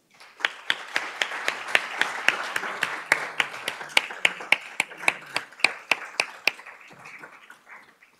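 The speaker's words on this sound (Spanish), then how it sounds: "un aplauso." Audience applause at an academic tribute event, a burst of claps with sharp individual hand strikes standing out over steady clapping, fading toward the end.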